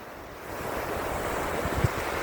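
Sea waves wash onto a beach shore with a steady, close surf rush and wind noise on the microphone.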